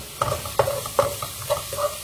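Garlic stirred in olive oil in a pan for a mussels dish gives five spaced scraping strokes over a steady close sizzle, with no talking.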